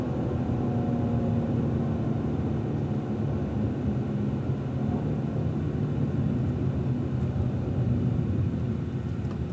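A Cadillac ATS-V's 460-horsepower twin-turbo V6 drones steadily at high speed around Fontana Speedway, a loud, continuous engine rumble with road and wind noise and no pauses or talk.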